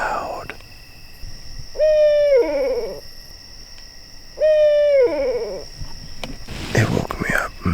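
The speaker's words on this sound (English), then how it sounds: "an owl is like right nearby the tent" Close to a tent at a rainy campsite in the middle of the night, an owl gives two loud, clear hoots a few seconds apart, followed by faint rustling and a soft whisper.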